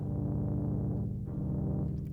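A very low, sustained synth tone built in the DRC synthesizer, a dense droning rumble that holds steady for about two seconds, alone and fairly loud.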